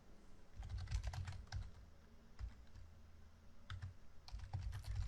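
Steady bursts of keystrokes on a computer keyboard while code is entered, clicks coming in quick runs separated by short pauses, close and clear with no talking.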